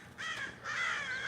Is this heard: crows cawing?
yes